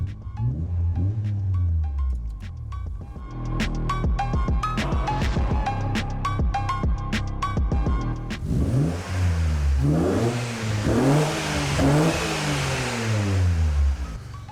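A car engine revs and accelerates while driving, its pitch repeatedly climbing and falling as the gears change, loud and steady throughout with a harsher, rougher stretch in the second half.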